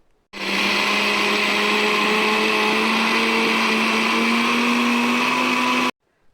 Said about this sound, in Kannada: ನಾನು ಸ್ವಲ್ಪ ನುಣ್ಣಗೆ ರುಬ್ಕೊಳ್ತಾ ಇದ್ದೀನಿ